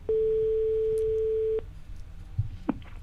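A telephone call tone rings on a phone line as a single long, steady, pure beep lasting about a second and a half. It then cuts off to quiet line noise with a few faint clicks.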